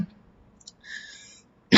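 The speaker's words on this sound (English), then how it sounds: "Don't worry, it's just a cough." A single sharp cough from a man hosting a live online tech-blogging Q&A bursts in loudly at the very end, after a quiet stretch with faint high tones.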